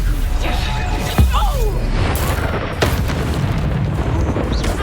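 Bombarda and Confringo spell blasts in Hogwarts Legacy combat, a dense run of booming impacts and crashes with a sharp burst near the start and another later, loud over a busy battle din.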